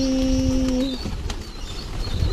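A flurry of wings flaps as a flock of fantail pigeons lifts off, over a steady background hum and a brief tone that cuts off.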